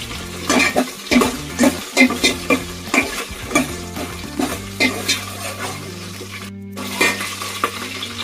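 Green chillies frying in a pan for pulao, a steady close sizzle broken by repeated scraping stirs of a utensil against the pan, the rhythmic strokes loud and regular before the sizzle settles into a continuous hiss.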